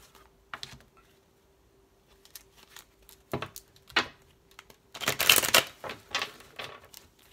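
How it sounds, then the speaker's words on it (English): A deck of tarot cards being shuffled by hand, with scattered soft riffles and clicks building to a denser, louder burst of card noise near the end, close and alone without talk. "This is my first time like shuffling on camera."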